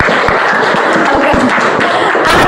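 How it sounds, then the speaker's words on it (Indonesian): A school class applauds together, a dense burst of hand clapping from many students, loud and close, lasting a couple of seconds. "Tepuk tangan untuk kelas IT 2."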